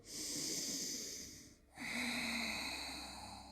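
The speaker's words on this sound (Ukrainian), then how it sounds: "І заключний глибокий вдих." A deep yoga inhale is drawn in through the nose as a steady, close, airy hiss that breaks briefly and then resumes for a second long intake, with no talking.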